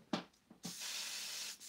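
A paint spray gun, still holding old color, sprays thinned opaque paint in one steady, close hiss lasting about a second, after a few short bursts.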